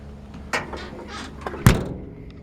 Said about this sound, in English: The doors open and close nice and solid as well.